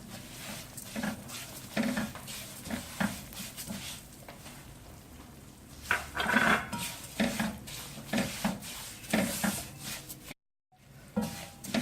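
Semolina roasting in a pan with a cup of sugar just added for a carrot semolina halwa, giving a continuous gritty scraping and stirring rasp with rhythmic spoon strokes throughout, close and fairly loud, with no talking.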